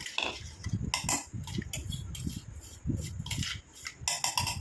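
Hair dye oil ingredients mixed by hand in a bowl, producing steady close rubbing and scraping with bright metallic clinks of a spoon against the bowl at irregular intervals, no speech.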